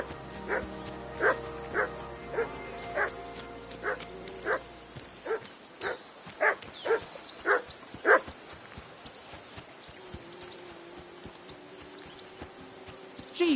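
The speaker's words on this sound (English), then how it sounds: "Jesus, Henry, that barking's driving me nuts!" A dog barks repeatedly in the medieval video game Kingdom Come Deliverance 2, around a dozen sharp barks at a steady rhythm, fairly close, over a low background hum that drops out partway, with no speech over it.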